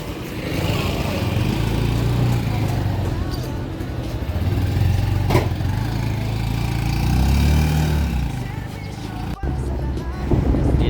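Engine of a Honda TMX Supremo motorcycle pulling a stainless jeepcycle sidecar runs steadily and loudly throughout, a continuous low rumble with a brief dip near the end.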